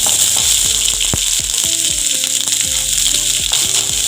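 Chopped onion and green chilies fry in oil in a pan, a loud close sizzle crackling constantly while a utensil knocks and stirs now and then.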